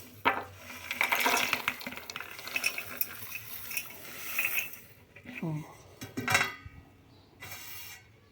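Ground spices being mixed into a paste in a mixing bowl for a cauliflower and broccoli roast, close scraping, clinking and wet stirring in uneven bursts, with short metallic taps and quiet pauses between.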